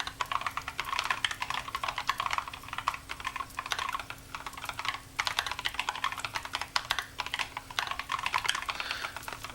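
Steady, rapid clatter of keys on a computer keyboard during a coding session, close and continuous, with bursts of quick strokes and brief pauses, no voices.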